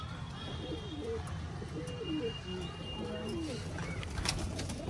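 Racing pigeons at a pigeon tournament give soft, repeated throaty coos at a moderate distance, against a steady outdoor background hum.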